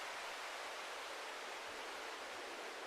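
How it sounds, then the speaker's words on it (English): Filtered white noise from a modular synthesizer, shaped into a wind effect: a steady, dense hiss that holds the same level throughout with no gusts or pauses. "So it's just filtered white noise."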